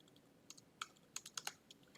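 Typing a folder name on a Mac keyboard, a short burst of light irregular key taps close by in a quiet room, about a dozen clicks over two seconds.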